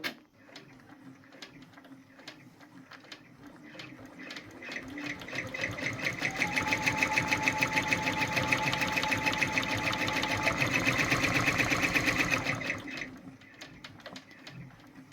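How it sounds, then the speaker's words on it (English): A Brother PR1055X embroidery machine stitches lettering on a nightgown collar: a fast, rhythmic mechanical ticking that builds, runs louder and quicker at its peak, then stops abruptly near the end. No one speaks. "the nice part about this machine is you can adjust the stitches per minute while it's running"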